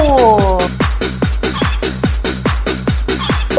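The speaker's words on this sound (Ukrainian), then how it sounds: "Ко-ко-ко, ко-ко-ко, курчаток скликаємо під крило." Chickens cluck in a quick steady rhythm over a bouncy beat, close and loud, with a brief higher call at the start.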